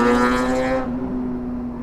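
A 1000 RR superbike roars past during an Independence Day group ride, a loud steady engine note with strong harmonics that drops off sharply after under a second as the machine passes, leaving a lower residual drone.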